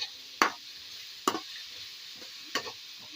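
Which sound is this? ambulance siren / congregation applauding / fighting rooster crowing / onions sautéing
onions sautéing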